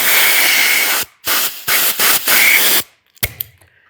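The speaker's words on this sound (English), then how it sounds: "You can hear some excess air leaving the tool." Compressed air hisses loudly from an old, leaking fitting on a pneumatic hand sander, in several sharp on-off bursts with short gaps, ending with a few clicks of the tool.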